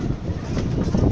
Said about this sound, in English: now the wind is coming as well, as you can see. Also the wind is coming.